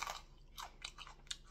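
Close, crisp crunching bites into a Sugar Rush Stripey pepper followed by a few wet chewing crunches, loud and right at the mic with no talking.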